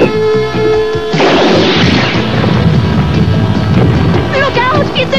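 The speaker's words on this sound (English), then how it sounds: "It's a sand torpedo!" A cartoon sand torpedo fires and explodes: a loud, roaring blast bursts in about a second in and rumbles on densely to the end over a steady background bed.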